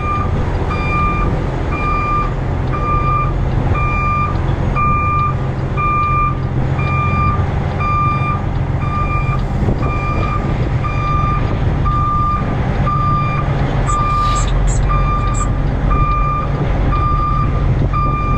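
Steady, loud reversing beeps repeat at a regular rhythm as a truck with a stinger backs out onto a tight street, with a constant engine rumble beneath and no talking.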